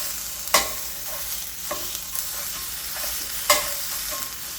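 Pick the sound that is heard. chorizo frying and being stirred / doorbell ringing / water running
chorizo frying and being stirred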